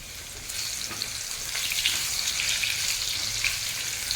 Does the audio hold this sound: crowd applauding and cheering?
no